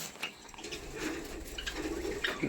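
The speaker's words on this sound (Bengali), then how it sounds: "তো দেখতে পাচ্ছ বদ্রি পাখিগুলো সব এখানে বেড়ে চলে এসছে" Budgerigars chirp and twitter continuously at a breeding farm, a busy cluster of high calls close by over a steady background hiss.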